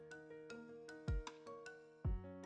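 Phone ringtone playing a bright, melodic sequence of electronic tones in a steady rhythm, with a couple of low thumps mixed in, fairly clear and without speech over it.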